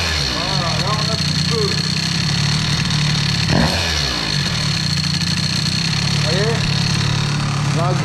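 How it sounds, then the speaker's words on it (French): Stage6 MK2 air-cooled scooter engine with a poorly tuned carburettor, running loud and close with a steady buzzing drone and a throttle blip partway through, under speech. "gros coup de gaz"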